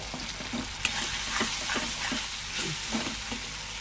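Chili dropped into a pan of tomato and prawn masala sizzles steadily, with a few sharp stirring scrapes and clinks over the constant close frying hiss.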